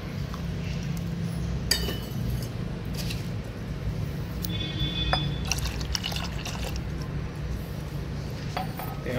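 Milk pours into a pot of home-made pahadi-style tandoori tea, a steady liquid splash and gurgle under a constant low hum, with a couple of light metallic clinks.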